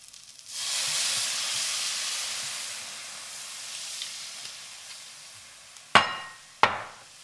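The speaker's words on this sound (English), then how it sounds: "The white wine will help like deglaze the pan" White wine poured into a hot pan sets off a loud, steady sizzle that gradually fades. Near the end, two sharp knocks of a pan or utensil cut through it.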